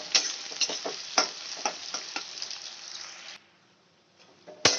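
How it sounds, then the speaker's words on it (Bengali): Onions frying in hot oil over a low-to-medium gas flame, crackling and sizzling steadily up close with repeated stirring scrapes, then dropping to a quiet simmer before a sharp clatter at the end. "পেঁয়াজগুলো লাল করে একদম পুরো গোল্ডেন ব্রাউন করে ভেজে নিতে হবে"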